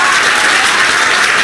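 Loud, dense applause from a room of students at a chemistry coaching class in Patna, clapping for a teacher in a short, steady burst with no talk over it.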